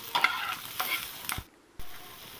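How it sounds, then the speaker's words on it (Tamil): Upma ingredients with turmeric powder being stirred in a pan, a few close scraping stirs with soft frying sizzle, a short pause, then stirring resumes. "வேணால் கிளறி விட்டுக்கோங்க."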